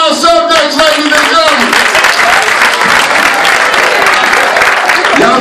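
Loud, dense applause from a live audience after a stage hypnosis show, clapping sustained and close throughout, with a few voices and some musical tones at the start.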